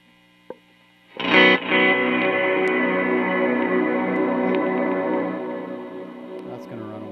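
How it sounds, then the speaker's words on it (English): An electric guitar runs through an amp's effects loop with reverb added: after a soft click, one loud distorted chord rings out and sustains for about six seconds, its tail fading near the end. "Let's try some reverb on here, see how that feels."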